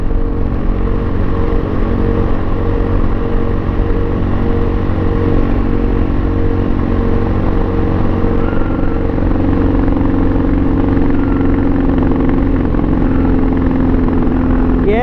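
Pitsterpro XTR250 dirt bike engine running steadily while riding at around 42 mph, a loud continuous drone with engine pitch shifting slightly near the end, wind noise throughout.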